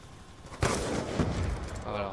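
A DSR 50 sniper rifle fires in Call of Duty: Black Ops 2 on the Standoff map in Domination mode, one loud, booming shot followed by a rolling echo and further game noise.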